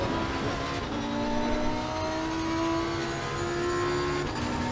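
A 2023 Lamborghini Huracan GT3 Evo 2 race car engine holds a loud, raspy, sustained drone with steady rising and falling pitch, close and continuous with no talk.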